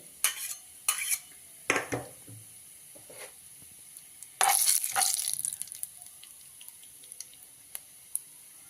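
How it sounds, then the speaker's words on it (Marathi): Cumin seeds roasting in hot oil for a tomato relish, a soft steady crackling sizzle punctuated by repeated scraping strokes of a spoon against the pan, with one longer stirring burst midway. "जिरे आपण चांगले भाजून घेऊया त्याच्यामध्ये."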